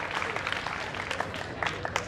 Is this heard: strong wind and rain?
no